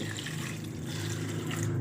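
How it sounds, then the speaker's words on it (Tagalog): Water pours steadily into a cooking pot holding chili and tamarind, a continuous close splashing and filling sound with no talking. "Then, lagyan ng tubig."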